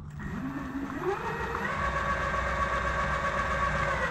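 A Raldey AT Gen 2 electric skateboard motor runs steadily in second (medium) gear, a continuous whine with a pitch that rises early and then holds at an even, fairly loud level throughout.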